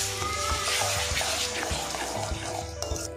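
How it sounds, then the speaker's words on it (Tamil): Strained tamarind water is poured into a pan for garlic pickle, giving a steady close splashing pour with light sizzle and occasional clinks, no talk over it. "இப்போது நம்ம வடிகட்டி வச்சுருக்கிற புளியை சேர்த்துடலாம்."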